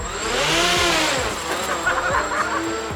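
Electric motor and propeller of an 8-foot foamboard RC A-10 Warthog plane running at half throttle, a steady loud whine with a droning hum, close by and alone.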